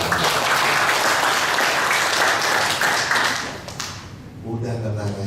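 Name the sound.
applause from the congregation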